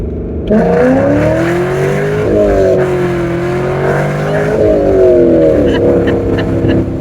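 A C5 Z06 Corvette engine pulls hard and loud, its roar rising steadily in pitch through gear changes, close and continuous with cabin voices faintly underneath.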